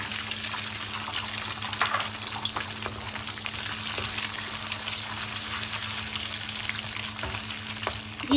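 Eggs frying in a pan with garlic, a steady close sizzle and crackle that holds throughout with no talking.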